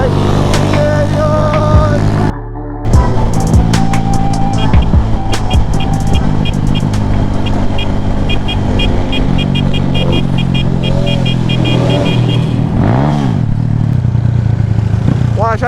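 A motorbike roars past on a Jamaican road trip, its engine loud and close, revving and rising then fading, with other traffic and shouted voices around it.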